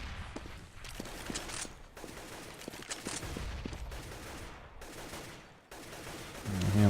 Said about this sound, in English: Yeah, a lot of AK fire.